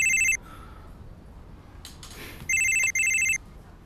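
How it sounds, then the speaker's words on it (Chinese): A telephone rings in two electronic bursts, one brief at the start and a louder double ring near the end, separated by a quiet room with faint movement. "我看你还是接电话吧，万一朱小姐有什么急事找你呢？"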